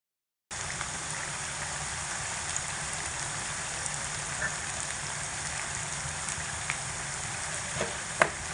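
Taro stolons fry in oil with salt and turmeric, giving a steady, close, continuous sizzle that runs throughout, with occasional faint clicks and a sharper tap near the end.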